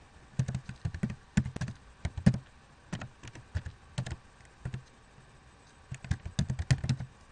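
Rapid keystrokes on a computer keyboard as a username and password are entered, coming in short bursts of close, crisp taps with brief pauses between groups.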